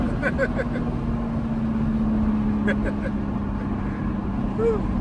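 A 2021 Toyota GR Supra 3.0 Premium accelerates at part throttle, its engine giving a steady, moderately loud hum with a faint rising tone, heard from the cabin.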